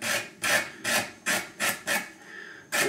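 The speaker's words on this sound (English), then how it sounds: "Don't forget to sand out the slots." Hand sanding of the slots in a wooden knock box: six steady back-and-forth rasping strokes of abrasive on wood, close and even in rhythm, with no voices.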